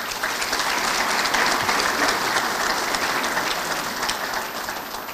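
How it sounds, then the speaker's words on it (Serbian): Applause from an audience at a book launch and exhibition opening, a dense, steady clapping that stays loud throughout and eases slightly toward the end. "Molim jedan aplauz."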